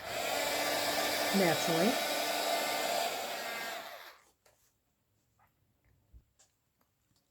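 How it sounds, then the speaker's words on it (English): A heat gun blasts hot air over a paper craft for about four seconds, a loud, steady whooshing hiss that cuts off abruptly, leaving near-silence with a few faint taps and a brief spoken word. "now I will use my heat gun"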